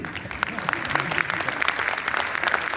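An audience at a Hindi poetry gathering claps in a dense, moderately loud burst of many hands, with a few sharper individual claps standing out and a faint murmur of voices underneath.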